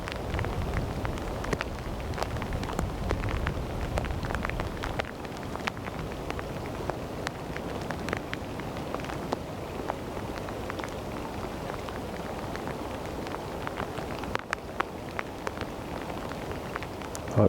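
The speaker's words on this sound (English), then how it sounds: "Hopefully you're not picking up too much wind and rain sounds on the microphones." Steady rain and gusting wind outdoors at a cold-weather roach fishing spot, a continuous broadband wash with scattered drop ticks and heavier buffeting in the first few seconds, no talking.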